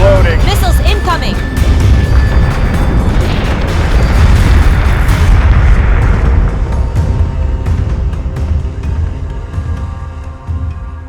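Heavy missile explosions and booming impacts rumble through a Battlestar Galactica Deadlock space battle, loud and continuous with overlapping bursts, while radio voices call out warnings over the din.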